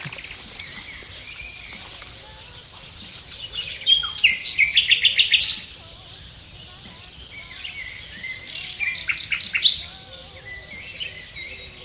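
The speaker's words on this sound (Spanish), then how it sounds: "Pero estos solo son pájaros" Small birds chirp and twitter in a work parking lot, with bursts of rapid, bright trills coming and going at moderate distance over a faint steady background hum.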